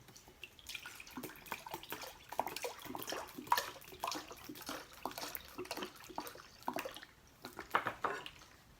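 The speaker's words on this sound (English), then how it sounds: "I'm going to add a cup of lemon juice to my sugar in the saucepan." Lemon juice poured from a bottle into sugar in a saucepan, a quiet, steady liquid trickle with small splashy spikes running for several seconds, no talking.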